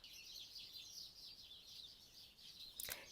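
Small birds sing in a garden near Lisbon, a dense continuous high chatter of chirps that stays fairly soft. A brief sharper sound briefly stands out near the end, and no one speaks.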